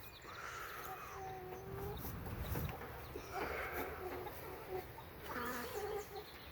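Garden chickens cluck and call in several bursts, with a few rising squawks standing out over a steady outdoor background.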